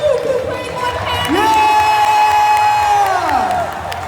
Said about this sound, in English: Let's give an extra big round of applause for Luke